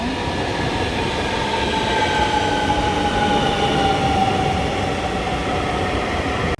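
A train at a Copenhagen station gives a steady, loud rumble with a faint sustained whine throughout, close by and continuous with no talking.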